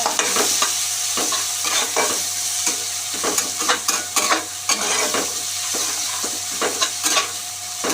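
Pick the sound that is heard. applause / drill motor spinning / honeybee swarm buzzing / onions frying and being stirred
onions frying and being stirred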